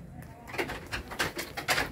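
Pigeons of a piebald, cow-patterned breed kept for breeding coo in a rural coop, a handful of soft repeated calls close by with brief pauses between them, no talk over them.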